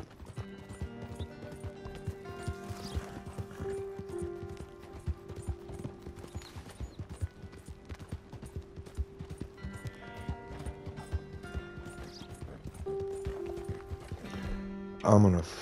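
Horse hooves clip-clopping in Red Dead Redemption 2, a steady rhythmic trot under game music and ambient sound, with a louder clatter near the end.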